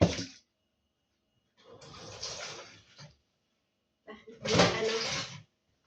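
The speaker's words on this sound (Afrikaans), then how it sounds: "Sit ek hier 'n bietjie water in om die velle van die mes af te spoel" Tap water runs in three separate bursts to rinse loose chicken skins off a kitchen knife during meal prep, each splash close and fairly loud with short silent gaps between.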